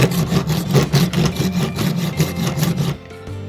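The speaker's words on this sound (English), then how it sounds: "I'm just going to use a hacksaw to cut off the barrel." A hacksaw rasps through a metal barrel clamped in a vise during a DL-44 blaster prop build, fast, even back-and-forth strokes, loud and close, stopping after about three seconds.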